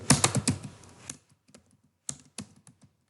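Keystrokes on a computer keyboard while entering list markup, a quick burst of clicks for about a second, then scattered single taps after a pause, close and fairly quiet.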